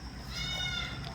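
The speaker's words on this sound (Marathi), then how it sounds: "हे माझा शेळीचा एक छोटासा गोट फार्म आहे." A single goat bleats once on a small goat farm, a short, quavering, fairly quiet cry heard alone against faint background noise.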